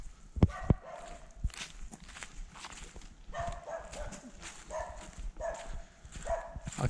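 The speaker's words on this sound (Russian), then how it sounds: "Собака лает, а сторожа нет." Faint, distant dog barks carry from a neighbouring camp amid the soft crunch of footsteps and outdoor ambience.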